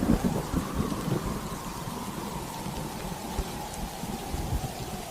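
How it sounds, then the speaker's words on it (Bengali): Light rain falls in a steady hiss while low thunder rumbles underneath, loudest at the start and then settling into a continuous wash of sound with no voices. "আকাশ আরো অন্ধকার হয়ে ঝিরে ঝিরে বৃষ্টি শুরু হয়"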